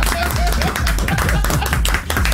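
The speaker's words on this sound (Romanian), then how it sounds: "Aplauze!" Canned applause on a Romanian radio morning show, a short burst of dense, close clapping lasting a couple of seconds with voices faintly mixed in.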